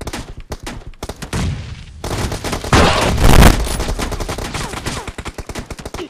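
Rapid video game gunfire, loud and close, with machine-gun bursts that run almost continuously and swell into a dense volley midway before breaking into separate shots.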